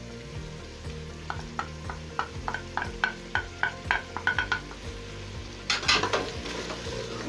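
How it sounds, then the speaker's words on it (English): A spoon scrapes and stirs succotash (githeri) with curry powder, ginger and black pepper in a pot, a run of sharp rhythmic clinks over a low sizzle, ending with a louder scraping burst. "Again, give the food a stir."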